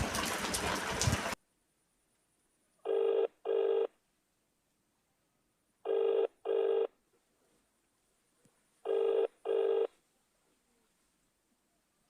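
Phone call ringing tone after a burst of noise, three evenly spaced pairs of electronic ring pulses separated by silence, clear and alone.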